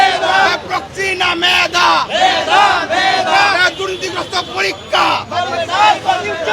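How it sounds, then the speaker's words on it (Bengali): Protesters besieging the Department of Primary Education with five demands chant slogans in loud rhythmic unison, a dense crowd shouting continuously and close for the whole stretch. "আমরা দেখতে পাচ্ছি এখানে তারা অবস্থান নিয়ে স্লোগান দিচ্ছেন"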